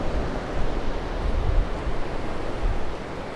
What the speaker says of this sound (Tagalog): Lalaki ng bagsak ng alon